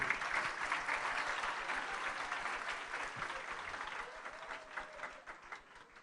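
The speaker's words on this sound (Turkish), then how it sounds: "hepinizden kendinizi güçlü bir şekilde alkışlamanızı istiyorum" An audience of women at a political gathering in Ümraniye applauds steadily, a moderately distant, dense wash of clapping that gradually thins and softens toward the end.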